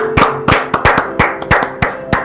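A church congregation claps together in loud, uneven bursts of about nine claps, close and clear with no talk over them.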